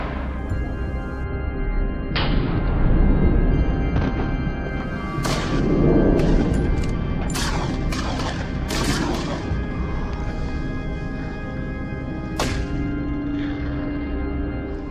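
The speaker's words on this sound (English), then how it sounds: "we fired several shots and brought the target down on the spot" Several sharp gunshots ring out at irregular intervals during a wild boar hunt in a forest, loud and echoing over a constant rumbling background, with a few closer cracks clustered in the middle and one more shot near the end.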